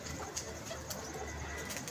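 Pigeons at a pigeon club coo softly and steadily against a constant background hum, with no voices.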